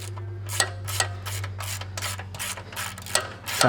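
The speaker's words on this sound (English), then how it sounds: "So you're gonna go ahead and take your 13mm socket," A ratchet fitted with a 13mm socket clicks in a quick, even run of about a dozen sharp strokes while loosening the frame bolt that holds a brake line on a 2020 Ram 1500, close and clear over a low steady hum.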